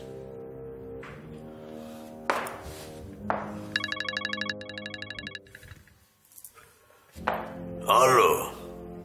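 A telephone rings with a repeated electronic trill in the middle, between bursts of people talking and a few thumps.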